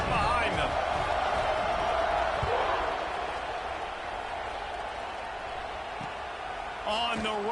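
A football stadium crowd roars as a broad, steady wash of noise that swells at the start and eases slightly, with occasional whistles and shouts, sitting underneath speech.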